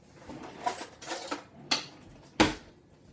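Metal spoon clinking against dishes and other kitchen utensils while making protein pancakes, with several sharp, close clatters spaced unevenly over a few seconds.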